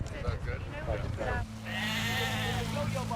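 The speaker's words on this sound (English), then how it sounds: "There are sheep, and there are fields" Sheep bleating in a field, with several wavering bleats in the first second and a longer drawn-out bleat later, heard close over a low steady hum, with talking near the start.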